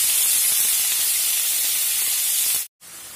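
Bottle gourd leaves and stems hit hot oil seasoned with black cumin, letting out a loud, close, continuous rushing hiss that breaks off briefly near the end and then resumes.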